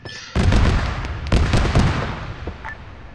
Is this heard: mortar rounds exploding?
yes